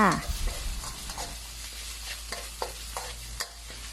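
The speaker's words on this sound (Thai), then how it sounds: "ก็ผัดไปสักแป๊บหนึ่งนะคะ ให้พอพริกกับกระเทียมทรงกลิ่นหอมขึ้นมาค่ะ" Chili and garlic stir-fry in a hot pan, a continuous close sizzle with repeated sharp scrapes and clacks from a spatula, starting with a brief louder burst.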